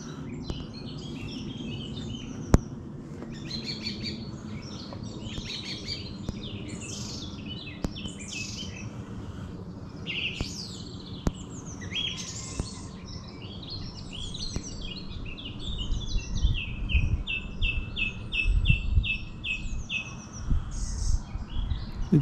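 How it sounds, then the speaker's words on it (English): An early-morning dawn chorus of many birds singing and chirping together near Eartham village, steady and layered, with a low rumble of distant traffic underneath. "and all the birds are out. Dawn chorus."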